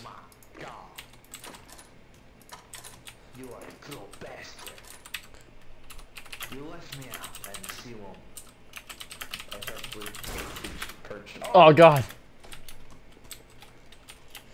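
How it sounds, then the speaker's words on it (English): Computer keyboard typing in a Garry's Mod DarkRP police roleplay, quick irregular key clatter in short bursts, with a voice exclaiming over it and a louder burst of noise near the end. "Oh my god, I'm so bad at typing."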